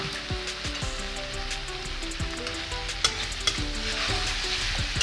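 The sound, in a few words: stirring local chicken curry after adding warm water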